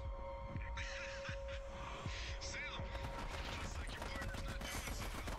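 Rapid gunfire rattles through a chaotic firefight in the co-op shooter game Army of Two, a dense, continuous barrage of shots and impacts, with voices speaking amid the noise.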